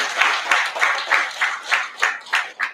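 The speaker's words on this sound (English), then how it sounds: "This calls for a loud round of applause for our president." An audience at a chess tournament applauds a young chess player, clapping in a steady, rhythmic beat of regular bursts that sounds like hands striking together in unison, with no talk over it.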